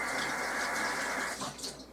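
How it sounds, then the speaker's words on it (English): Tap water runs steadily into a kitchen sink as a hand is rinsed after seasoning potatoes, a close, continuous splash that shifts and softens near the end. "Let me rinse my hand."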